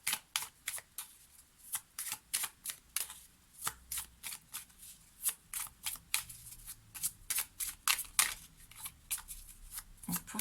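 Lenormand cards are shuffled in quick repeated riffling bursts, each a short crisp rustle with brief gaps between, close and fairly quiet, with no voices.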